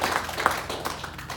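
A church congregation gives brief applause, light scattered clapping close by for a moment.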